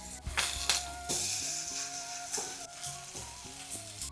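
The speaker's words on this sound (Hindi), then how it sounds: "फिर इनको करते हैं फ्राई ऐसे" Colocasia leaf rolls (patrode) frying in a pan, a quiet, soft sizzle with a few brief clinks and bumps over a short stretch.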